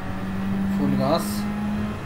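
Engine of a race car at full throttle in Gran Turismo 7, a steady droning tone with a brief rising whine mid-clip as the revs climb, heard under speech.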